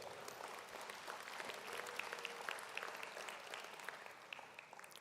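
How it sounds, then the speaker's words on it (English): Audience at a memorial breakfast applauds supporting organizations, a steady, faint round of clapping from a large room that fades slightly toward the end. "Let's give them a round of applause."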